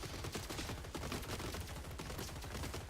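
Rapid shotgun and gunfire blasts from robots battling in the strategy video game Gladiabots, a dense, continuous barrage of overlapping shots at steady loudness with no talk.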